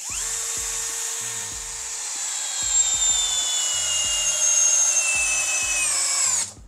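A FortG brushless drill driver spins up and runs steadily at high speed, a loud continuous whine with a low clicking clutch rattle underneath, revving slightly before winding down at the end.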